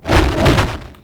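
A designed whoosh effect for hand movements, shaped from noise, plays alone as one broad, rounded swell with a thuddy low body that rises quickly, holds briefly and fades out.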